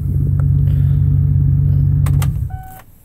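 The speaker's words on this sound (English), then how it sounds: "in the start there, you probably heard that horrible grind." A car engine just after a cold start gives a loud, deep droning grind, steady and close for a couple of seconds, then cuts off, followed by a few faint clicks and a brief high tone.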